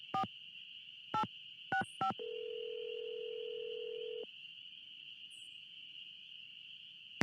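Touch-tone phone dialing in the Nancy Drew video game Ghost Dogs of Moon Lake: four short keypad beeps in an irregular rhythm, then a steady ringback-like tone for about two seconds, all over a constant high electronic hum with faint cricket-like background.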